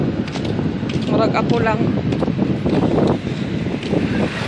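Wind roars steadily against the microphone throughout, with a person speaking briefly over the blustery rumble.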